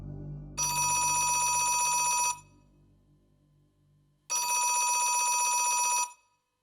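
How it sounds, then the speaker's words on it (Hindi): A telephone bell rings in a home in two loud, sustained bursts of rapid trilling, with a short quiet gap between them and no talk during the ringing. "किसका फोन है?"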